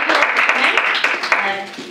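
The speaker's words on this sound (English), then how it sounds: "please join me in a round of applause for Heather" Applause from a small group at a biomedical application-strategy workshop lunch, a brisk patter of clapping that starts strong and tapers off toward the end.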